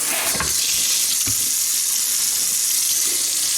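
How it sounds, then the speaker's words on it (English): Steady, loud hiss of warm water spraying onto a leather boot up close, continuous throughout with a couple of brief splashy bumps near the start. "Spray it down, get it nice and warm with that warm water."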